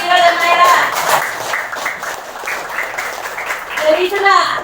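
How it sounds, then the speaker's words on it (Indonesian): Classroom of students clapping for classmates, a loud burst of applause that eases and swells again, with children's voices and chatter mixed throughout. "Beri tepuk tangan untuk Alfira dan Naira"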